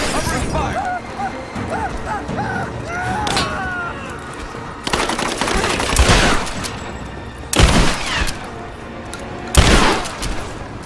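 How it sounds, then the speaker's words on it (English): Covering gunfire in the Tomb Raider video game breaks out as loud bursts of shots with crashing impacts across the second half. Dialogue with a speaking voice runs over the first part. "Laying down covering fire!"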